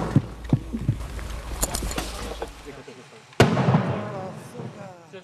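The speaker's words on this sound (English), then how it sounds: "Incoming Russian artillery." Incoming Russian artillery fire lands on the front during a counter-offensive: scattered dull thumps and crackles, then a single sharp, loud blast followed by a rumbling decay.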